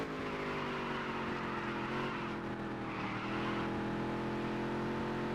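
Modified race car from Dirt to Daytona roaring through a qualifying lap, engine note held loud and steady the whole time, with a slight shift in pitch partway through.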